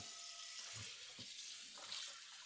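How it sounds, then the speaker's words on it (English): Tap water runs steadily into a sink while a non-stick pan is rinsed, a soft continuous hiss and splash heard faintly and alone, with a few low clunks of the pan. "Rinse the pan."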